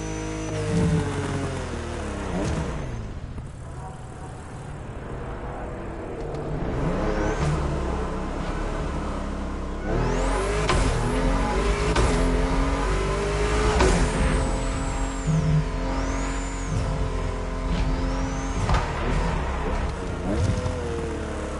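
Race cars speeding through the night-time streets of Honolulu in The Crew Motorfest, engines droning and revving steadily throughout, with rising and falling pitch sweeps as cars accelerate and pass, under a continuous loud mix.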